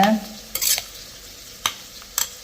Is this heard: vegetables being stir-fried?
yes